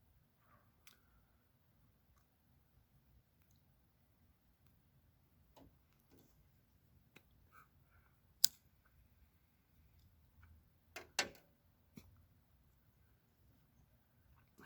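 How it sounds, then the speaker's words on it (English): Typing on a keyboard in a basement at night, sparse quiet ticks and clicks scattered irregularly over a low steady background hum, with a few sharper louder taps later on. "typing some poetry."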